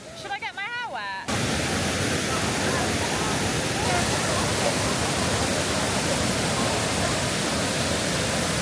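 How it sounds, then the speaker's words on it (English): A waterfall in Croatia roars as steady, dense, broadband rushing water after a brief moment of voices, loud and unbroken to the end. "The waterfall."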